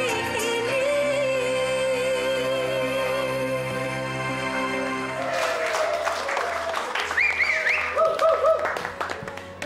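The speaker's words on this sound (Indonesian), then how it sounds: "Beri tepuk tangan sekali lagi." A live audience at a stage performance breaks into loud clapping that swells and continues to the end, following a stretch of music.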